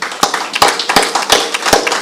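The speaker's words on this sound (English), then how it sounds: "Can we give a round of applause?" Applause at a stakeholder meeting on mental health services in Gauteng: a smallish group claps close by, with several sharp, loud individual claps standing out in a loose rhythm over a thinner background patter.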